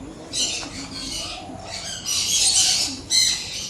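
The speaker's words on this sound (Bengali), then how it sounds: "এরকম পাখির আওয়াজ কোথায় পাবো দেখো" Birds calling near an old temple: bursts of bright, high squawking chirps come in several clustered waves over a quiet background, fairly close and without speech.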